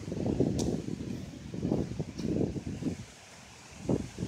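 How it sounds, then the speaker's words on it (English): Strong outdoor gusts buffet the microphone in low rumbling surges that rise and fall several times, loud and close, with a brief lull before another gust. "Wind is relentless, guys."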